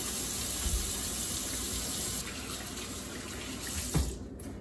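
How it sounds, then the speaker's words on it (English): Hands being washed under a running tap at a kitchen sink, with a steady close stream of water splashing and shifting as the hands move through it, and no talking. "Step one, wash your hands."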